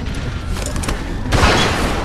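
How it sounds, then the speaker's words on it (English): A single loud, booming gunshot in The Walking Dead 400 Days game bursts out over a dense, rumbling background. "Fire the fucking gun!"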